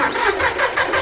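A John Deere SyncShuttle tractor engine cranking on the key, a loud, close, rhythmic whirring churn of the starter as the diesel turns over, with no talk.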